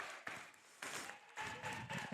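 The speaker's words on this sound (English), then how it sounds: "The way the crowd and the benches are clapping after this" Crowd and team benches clapping at a men's college basketball game in a gym, in uneven bursts of applause that swell and fade over a couple of seconds.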